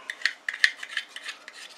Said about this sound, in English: thread on your connector nut